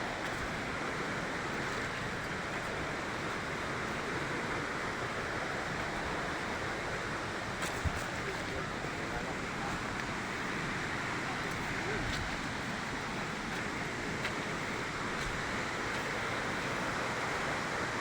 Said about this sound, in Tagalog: Yan, narinig ko na yung tubig eh.